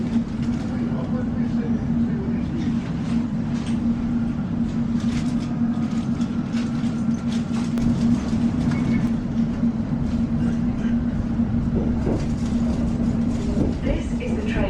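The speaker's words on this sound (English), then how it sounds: "There's the underground train," A London Underground train passes near a main-line station, a steady, loud rumble with rhythmic wheel clatter throughout, a constant low hum underneath and faint voices in the background.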